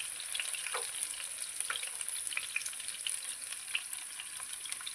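Chopped onions sizzle steadily in hot oil in a pan while cooking amla (gooseberry) dal, with a continuous bright crackle and occasional spattering pops, close and alone.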